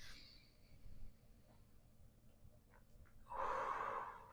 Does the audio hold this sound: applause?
no